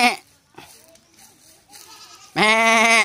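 Goats bleat up close outdoors. One loud, drawn-out bleat ends the stretch, another brief call opens it, and quieter rustling and murmuring sit in between.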